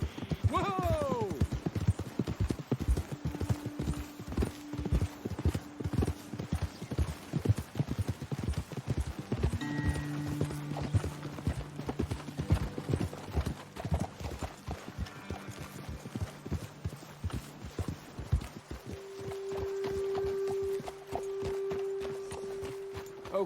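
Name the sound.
horses walking, hooves clip-clopping, in Red Dead Redemption 2 video game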